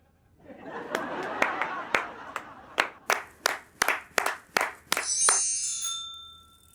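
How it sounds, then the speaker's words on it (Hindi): About a dozen sharp, separate handclaps in a loose, uneven rhythm in a comedy sketch, building then stopping, followed by a bright ringing chime that lingers briefly. "तालियां।"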